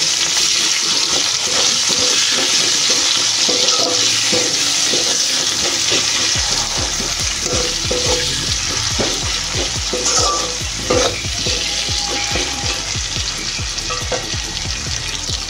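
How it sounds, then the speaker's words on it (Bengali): Chopped onion sizzles steadily in hot oil after panch phoron tempering, with a spatula scraping and stirring the pan in quick repeated strokes throughout; close and continuous with no talking. "এই যে পেঁয়াজটা একটু হালকা করে নেড়ে চেড়ে নিয়েছি।"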